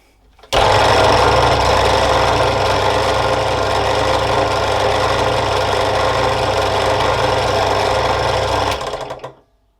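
An Energer drill press motor starts up and runs steadily at close range with a loud, even whirring hum and buzzing drone, then winds down and stops.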